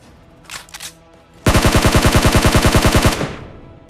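Gunfire in PUBG Mobile while fighting bots: a brief early burst, then a loud sustained rapid-fire stream of evenly spaced shots lasting about a second and a half, close and dominant, with no talk.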